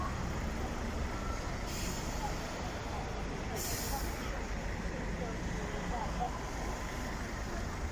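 A London bus pulls out at Hampstead Heath, its engine rumbling steadily amid roadway traffic noise, with two short bursts of hissing air around the middle and people talking nearby.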